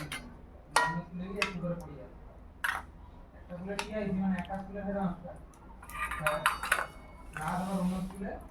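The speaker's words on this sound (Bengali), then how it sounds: "এবার আমি মাংসগুলো বেড়ে নেই।" Meat and potatoes are served from a pot onto plates, with metal utensils clinking and scraping against cookware and dishes in repeated bursts, while a person talks throughout.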